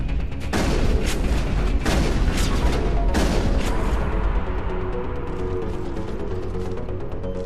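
Booming gunfire in the sci-fi shooter Mass Effect on Eden Prime, several heavy shotgun blasts in the first few seconds, loud and close, followed by a continuous rumbling battle din.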